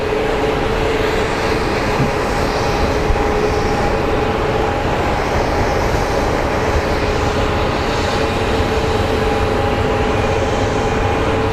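Airliner during pushback at Phoenix Sky Harbor airport, a steady loud engine roar and whine holding constant throughout with no change in pitch.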